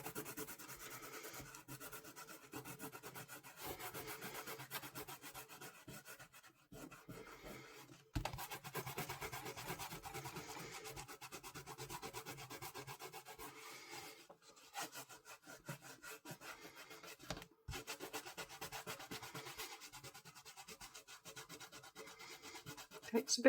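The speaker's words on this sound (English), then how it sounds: "with 2 fingers, when this is dry, you're just going to rub off the masking fluid" Two fingers rubbing dried masking fluid off watercolour paper: a faint, steady dry scrubbing and scratching that continues throughout, with a few brief pauses and no voices.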